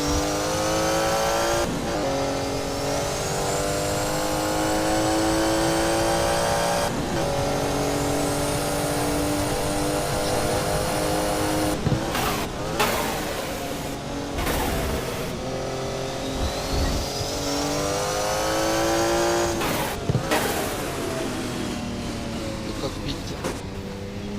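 A Porsche 956 race car lapping Hockenheim during a 1983 DRM race, heard from onboard: a loud engine screams up through the gears, with sharp drops at each shift and repeated rising and falling revs for the whole lap.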